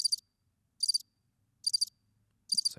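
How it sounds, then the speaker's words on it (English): Four evenly spaced bursts of high, shrill cricket chirps, a sound effect played from a RODECaster pad, each a quick trill, separated by near silence, ending with a soft low thump. "So crickets there"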